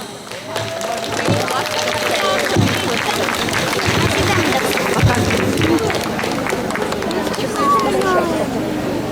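A concert audience of Ukrainians in Cartagena applauds to welcome a band onto the stage. Dense, continuous clapping fills the hall, with a voice talking over it.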